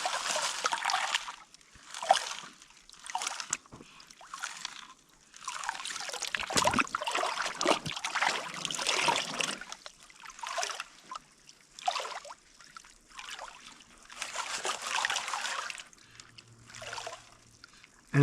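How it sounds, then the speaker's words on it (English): Water sloshes and swishes in a gold pan during winter panning in Arizona, pushed in and out in rhythmic bursts of splashing and trickling, close and fairly loud, with short quiet pauses between strokes. "You're letting the water in, and then you're pushing the water out."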